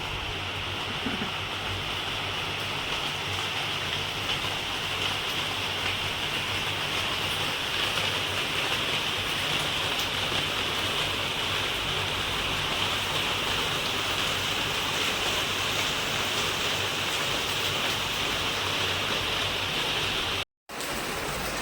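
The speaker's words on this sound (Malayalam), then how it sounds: "അപ്പോൾ മഴ ഉറച്ചു തുടങ്ങിയിട്ടുണ്ട്" Steady summer rain pours outdoors in Kerala, a dense, even hiss of drops on surfaces that continues unbroken for the whole stretch, with only a brief dropout near the end.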